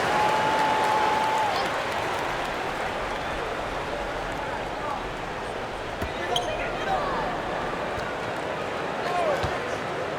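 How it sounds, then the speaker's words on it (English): Arena crowd at a PBA basketball game between Barangay Ginebra and Meralco claps and murmurs in a broad, steady wash, with an announcer's voice over it and a few sharp thuds and squeaks scattered through. "Let's give them a round of applause"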